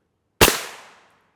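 A single sharp rifle shot of an M80A1 round from a 10.5-inch short-barreled rifle striking an armor plate: one loud, abrupt crack with a short decaying tail, alone in silence.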